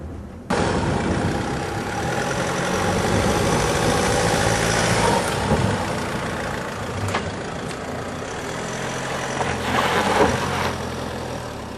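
A Land Rover Freelander 2 automatic drives uphill over rough ground. Its engine gives a steady, loud mid-range drone throughout, with a few brief knocks and rattles from the vehicle and no speech.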